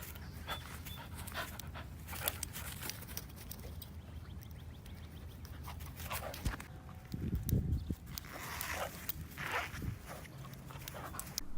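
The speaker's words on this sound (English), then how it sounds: "Here's a dog that only has 2 legs but doesn't seem too bothered about it." A dog with only two legs panting rapidly and padding along, close and fairly quiet, with light footfall taps and a steady huffing rhythm.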